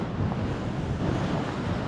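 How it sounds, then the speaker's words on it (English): Strong winter wind blowing across an old beach, buffeting the microphone with a continuous loud roar and low rumble, surf mixed in, with no voices. "I think the wind's hit its peak now, so hopefully you can hear me."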